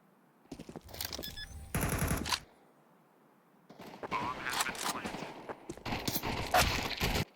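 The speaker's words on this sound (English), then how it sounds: "AZUWU bending Galil shots" Galil rifle gunfire in a Counter-Strike 2 match, heard as bursts of rapid shots mixed with other game sounds and caster talk.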